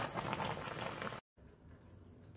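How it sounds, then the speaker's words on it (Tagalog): Pancit canton noodles boil in a pot, a steady soft bubbling hiss that cuts out briefly, then returns fainter with light patter. "Tapos ayan, pinapakulo natin yung pansit natin."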